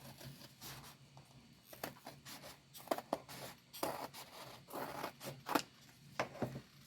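Scissors cutting through fabric in short irregular snips and rustling bursts with pauses between cuts, close up and moderately loud.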